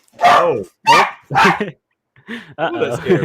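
Dogs bark indoors: three loud, close barks come in quick succession, then after a short pause a denser burst of overlapping barking and yapping.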